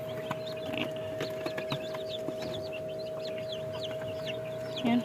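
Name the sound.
chicks in a DIY incubator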